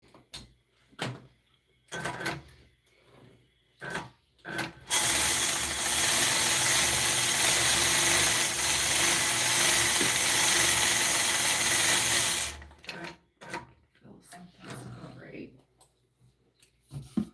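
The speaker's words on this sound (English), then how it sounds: "I'm just going to make sure it's stitching right" A sewing machine stitches in one steady, continuous whirring run of several seconds, bracketed by scattered clicks and handling noises before and after.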